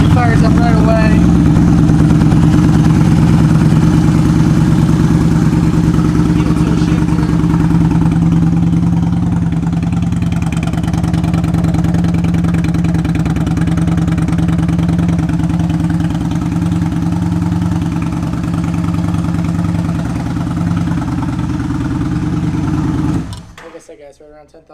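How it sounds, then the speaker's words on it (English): Yamaha V Star 950 motorcycle engine, about 10,900 miles, idling with a steady deep loping rumble close by that cuts off near the end, with someone talking over it. "It fires up right away."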